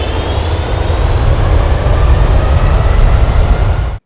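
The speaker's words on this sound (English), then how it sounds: "The mighty roar of a General Electric GE90" A General Electric GE90 jet engine in a flight simulator gives a loud, dense, steady roar with heavy low rumble and a faint high whine, ending abruptly.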